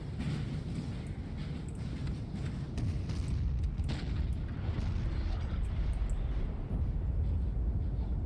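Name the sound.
artillery fire in the video game NTW3 multiplayer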